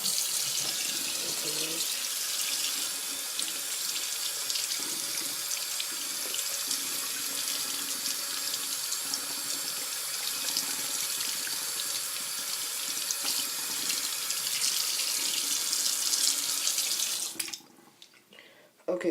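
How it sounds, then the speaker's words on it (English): A disc is rinsed under a running tap, a steady loud hiss of water pouring into a sink that runs nearly unbroken before cutting off abruptly near the end. "You really want to put this under water."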